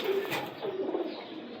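Lakha pigeons kept on a home rooftop, a close, soft, throaty cooing that continues in a low rolling murmur.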